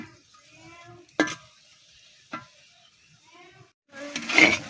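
Sharp clinks of a spatula against a wok, then a burst of sizzling as onions, tomatoes and green chilies fry, with a faint voice in the background.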